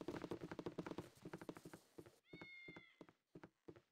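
A cat meows in the Baldur's Gate video game, a single short meow in the middle, faint amid a quiet game scene of rhythmic hoof clip-clops.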